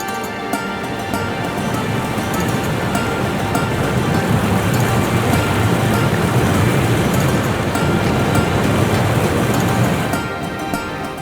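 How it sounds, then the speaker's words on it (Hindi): A waterfall fed by a glacier in Spiti, Himachal Pradesh, sends up a loud, steady rushing roar of falling water that stays broad and unbroken from start to finish, with no voices over it. "और आप ये जो झरना देख रहे हो ना, ये उसी ग्लेशियर का है"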